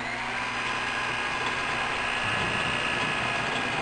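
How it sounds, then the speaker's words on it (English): A pneumatic rivet nut tool pulls threads into a hole for a zerk fitting, making a close, steady mechanical whir with ratcheting texture that runs without a break. "it's a air pneumatic tool that you just kind of slide down in the hole"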